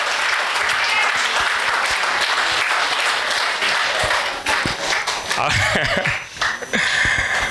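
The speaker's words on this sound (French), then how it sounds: "Acclamez la fidélité de Dieu, mes frères et sœurs" A church congregation applauds loudly and steadily, the dense clapping carrying on for several seconds before it thins into scattered claps and taps, with voices mixed in.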